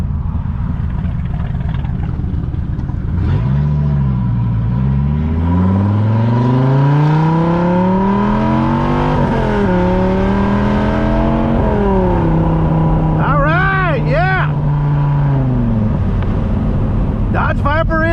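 A Dodge Viper on a test drive after a radiator replacement accelerates hard. The loud engine note climbs and falls through several gear changes over about eighteen seconds, and people talk inside the car throughout.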